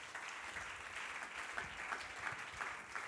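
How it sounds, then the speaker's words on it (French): A church prayer gathering breaks into sustained applause and cheering, a broad, even wash of clapping from the crowd with a few shouts rising through it. "Quelqu'un acclame très fort."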